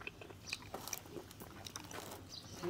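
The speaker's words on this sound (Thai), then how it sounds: "เคี้ยวแล้วก็แข็งกรอบวะ" Crunchy grilled pig ear being chewed, close and fairly quiet, a run of sharp irregular crunches and bites with brief pauses between them and no talking.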